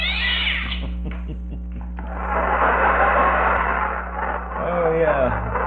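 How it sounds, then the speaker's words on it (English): A cat yowls in heat, a loud wavering caterwaul rising and falling in long drawn-out cries, with a broadcast-style hum and radio presenter's voice around it. "That's the blind kitty in heat."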